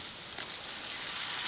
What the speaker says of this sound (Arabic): درت هنايا العسل، نخشيهم في العسل مباشره من الزيت للعسل